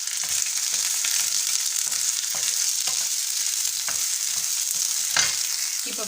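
Onion hits hot oil with popping mustard seeds for a vegetable vermicelli pulao, giving a loud, dense, continuous sizzle with brief stirring knocks throughout.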